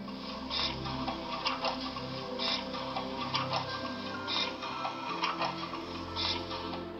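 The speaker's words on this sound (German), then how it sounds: "die Wasserpumpe und das Spitzenlicht zweimal rot," Water pump sound effect of a Märklin 38201 BR 18 201 H0 express steam locomotive model, a rhythmic mechanical ticking and chuffing pulse repeating steadily over a low hum, moderately quiet and without voices.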